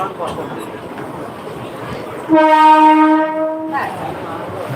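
A train horn blares loudly for over a second, a sustained tonal blast over rumbling rail noise, with people talking before and after.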